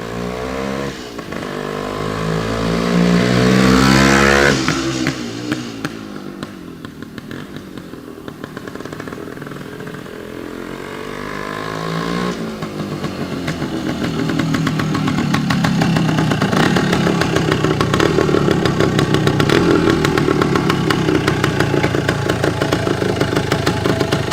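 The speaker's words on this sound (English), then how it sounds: "Nothing like the sound and smell of two-stroke and the crisp autumn air here." A 1973 Yamaha DT3 two-stroke trail bike engine runs outdoors in crisp autumn air, a buzzy, ringing crackle that rises in a rev early on, settles, then climbs to a steady louder drone, with no talk.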